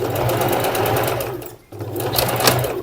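A sewing machine sewing a backtack on a bust near an elastic band, running in two close, steady whirring bursts separated by a brief pause.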